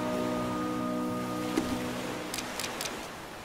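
Steady rain hiss from the survival game The Flame in the Flood, a soft even wash throughout with a few faint brighter drip-like ticks near the end.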